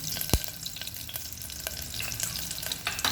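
Curry leaves sizzle and crackle in hot oil in a pan while a spoon stirs them for a potato-tomato curry, with a steady near hiss, scraping strokes and one sharp knock early on.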